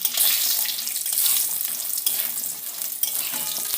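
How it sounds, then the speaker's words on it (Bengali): Lentil dumplings (bori) fry in hot oil with dried red chillies and bay leaves, giving a loud, continuous bubbling sizzle close by with faint stirring, and nobody talking. "বড়িটাকে ভালো করে লাল করে ভেজে নেব"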